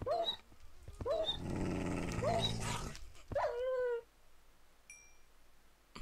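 Wolf growling in the video game Minecraft, a series of rough growls and whiny yelps that come loud and close, followed by a short high tone and near quiet.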